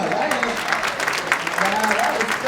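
Audience applauding the Vesper Choir at a Black History Month program, a steady wash of many clapping hands with voices and cheers mixed in over the top.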